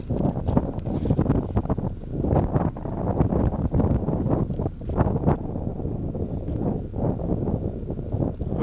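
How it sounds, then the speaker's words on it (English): Strong wind gusting at about 20 knots across a golf course roars steadily into the microphone as loud, continuous buffeting with rough surges throughout, and no voices. "It's kind of a rough day out here with this wind gusting at about"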